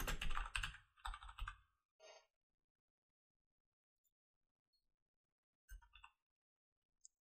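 Keystrokes on a computer keyboard as a name is typed: two dense bursts of rapid clicking close by, a short flurry, then long silence broken by a brief final patter and a single click.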